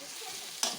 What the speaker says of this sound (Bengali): আমরা আবার নাড়াচাড়া করে দেব।